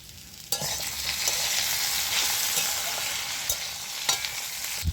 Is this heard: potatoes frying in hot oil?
yes